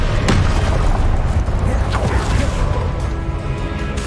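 A Confringo blasting spell exploding in the video game Hogwarts Legacy, a loud, dense booming burst with rumbling crackle that sustains and slowly fades over a few seconds.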